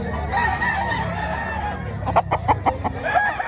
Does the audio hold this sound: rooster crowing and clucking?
yes